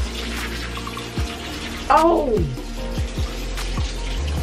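Tap water runs steadily in a home bathroom while someone brushes their teeth, a continuous hiss beneath a brief exclamation and nearby chatter.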